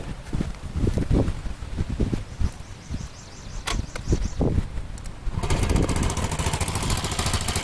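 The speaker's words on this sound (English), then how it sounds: "Let me start it up for you." A 2003 Honda Metropolitan scooter with a swapped-in Ruckus engine sputters and coughs through several attempts, then catches and runs with a loud, steady, buzzing drone close by.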